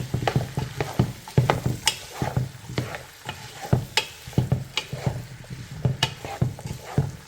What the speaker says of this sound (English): we're all going to add the carrots and the celery too. I'm going to cook this until everything's soft